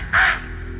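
A single crow caw, loud and close, one harsh call lasting about a quarter second over a quiet background.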